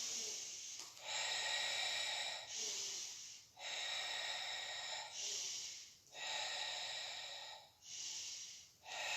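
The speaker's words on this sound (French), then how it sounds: "Expire. Inspire." Long, loud breaths out and in during a Pilates exercise, each one a steady airy rush lasting one to two seconds with short pauses between, close to the microphone and without talk.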